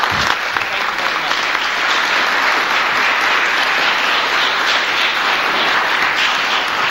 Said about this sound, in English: I'd like to give our applause to all three of our participants